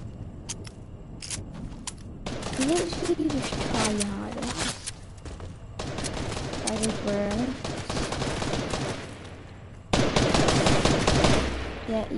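Gunfire crackles in a Fortnite match, with sharp single sniper cracks early on, then bursts of rapid automatic fire and a loud volley near the end, mixed under players talking over voice chat.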